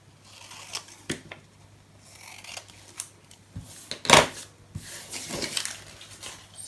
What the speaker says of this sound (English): I'm just going to trim these out